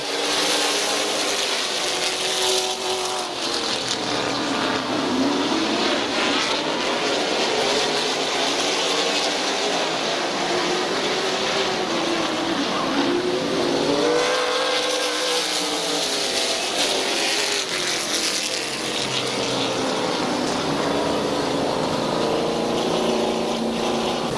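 Race cars at Midvale Speedway accelerate at the green flag, a steady engine roar with rising and falling passes, fairly loud and continuous throughout.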